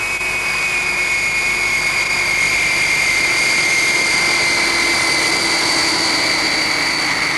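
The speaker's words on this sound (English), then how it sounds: "We're making our final approach now, and we'll be landing shortly." British Airways jet airliner on final approach to landing, a loud steady engine roar with a sustained high turbine whine held throughout, no voices over it.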